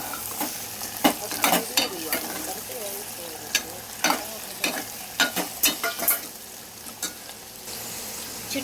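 Chopped tomatoes and curry leaves stirred and frying in a pan, a steady soft sizzle broken by irregular sharp scraping clatters of the spoon against the pan, close and moderately loud.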